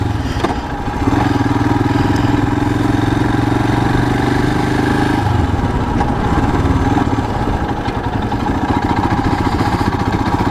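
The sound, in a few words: Royal Enfield Himalayan motorcycle engine lugging while riding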